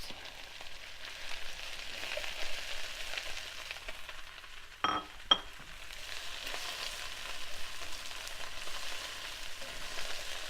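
Beet noodles fry in a pan with a soft, steady crackling sizzle at low volume, broken near the middle by two brief clanks of stirring.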